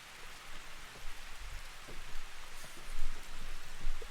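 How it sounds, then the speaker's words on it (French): Steady rain in a video game cutscene hisses down with scattered heavier drops pattering nearby, a continuous wash of sound and no voices. "petite cinématique sous la pluie"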